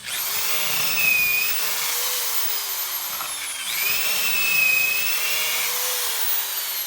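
A power drill whines steadily at high pitch while drilling into aluminum, pausing briefly midway before spinning up again, loud and close with no talking.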